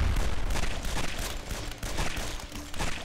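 Explosion in a zombie shooter video game, a dense burst of booming blasts and crackling fire filling the whole stretch with a brief dropout partway through where the sound glitches.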